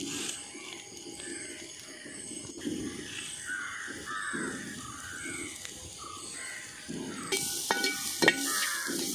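Crushed green chilies sauté in a pan for a duck roast with a steady sizzle and occasional stirring scrapes, while crows caw repeatedly in the background.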